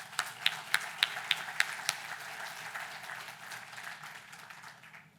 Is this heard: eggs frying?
no